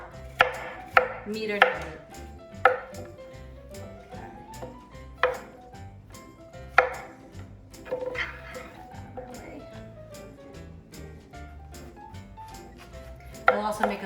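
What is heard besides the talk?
chopping vegetables into bite-sized pieces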